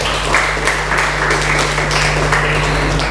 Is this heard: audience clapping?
yes